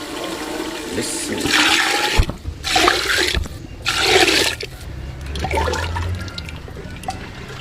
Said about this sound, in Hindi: मटन अच्छी तरह भून गया, तो अब हम इसमें पानी डालेंगे।